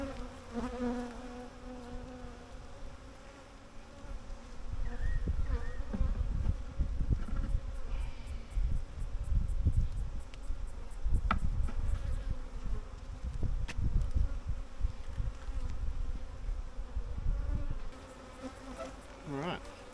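Honey bees buzz in a dense, steady swarm around an open hive during an inspection, the hum swelling louder midway and staying close, with occasional sharper passes near the ear.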